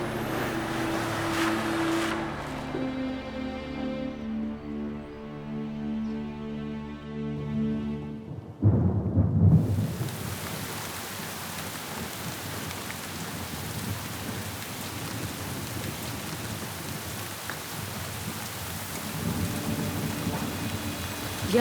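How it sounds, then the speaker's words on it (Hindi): A loud crack of thunder breaks over a steady downpour, with heavy rain drumming continuously on surfaces afterward. "इतनी खतरनाक बारिश"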